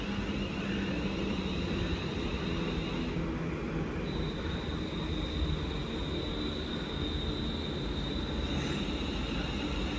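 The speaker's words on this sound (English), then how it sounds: "And now on to platform number 2 is the (1111) London North Western Railway service from Crewe" A London Northwestern Railway train from Crewe to London Euston rolls into platform 2 at Nuneaton station, a continuous low rumble of wheels with faint high squeals and a thin tone running over it, steady and moderately distant.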